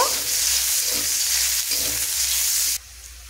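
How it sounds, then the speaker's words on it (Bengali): Chopped onion sizzles steadily in hot oil as it fries to light brown, a dense close frying hiss with faint stirring scrapes; the sound drops sharply near the end. "তারপর পেঁয়াজটাকে হালকা লাল করে ভেজে নেব।"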